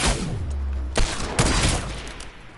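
A sniper shooter video game fires a quick burst of gunshots, two sharp cracks close together after a low rumble, moderately loud and with no talking.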